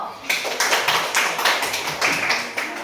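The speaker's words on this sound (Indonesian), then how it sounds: "Aplaus untuk Rivo." Short burst of applause in a classroom, a group clapping in uneven bursts up close for a few seconds.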